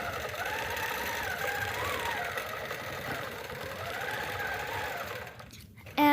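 A sewing machine runs steadily while stitching decorative ribbon-candy loops along the edge of a quilt, a continuous close-up mechanical whir that stops near the end with a short click.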